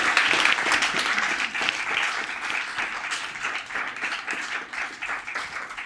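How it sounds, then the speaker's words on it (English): Audience applause after an author talk at a book event, a dense, steady wash of many hands clapping that swells near the start and slowly tapers off. "let's give him another round of applause"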